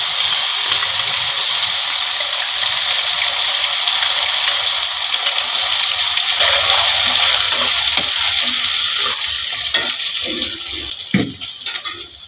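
Water splashes into a pan holding ground mustard-poppy paste with cumin and ginger paste, part of a spicy Bhola Bhetki fish curry; a steady broadband wash and sizzle runs throughout, with a few sharper clatters near the end.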